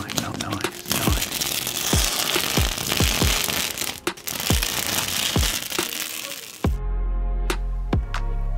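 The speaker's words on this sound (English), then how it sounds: "peeling off that lovely border." Masking tape border is peeled slowly off a finished painting, making a series of sharp, close crackling tears and crinkles repeated roughly every half second, with a quieter stretch near the end.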